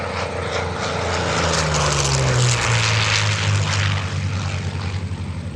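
A low-flying P-40 Warhawk propeller fighter roars past close by at an airshow, its engine note sliding downward as it passes, loud and steady with no voices.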